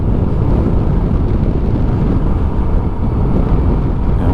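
Wind buffets a rider on a small scooter moving at 60 km/h, a loud, constant low roar of wind against the microphone that drowns out everything else.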